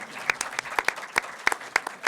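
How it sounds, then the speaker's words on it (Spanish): A studio audience claps at a talk show interview with actors. Distinct claps arrive in a brisk irregular rhythm, close and fairly loud, with no voices. "Aplausos."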